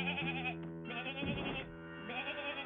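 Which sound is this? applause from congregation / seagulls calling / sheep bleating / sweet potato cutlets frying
sheep bleating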